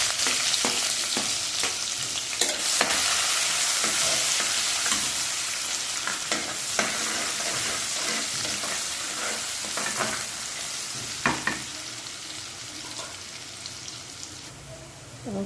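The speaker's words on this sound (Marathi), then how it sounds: "तेलामध्ये मोहरी टाकून घ्यायची आधी आणि खसखस टाकायचे आणि लगेच कांदा टाकून द्यायचा" Onion hits hot oil with mustard and poppy seeds, sizzling and crackling steadily with sharp pops and occasional stirring, close by and with no voices.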